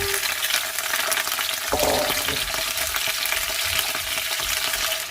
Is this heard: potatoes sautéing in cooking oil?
yes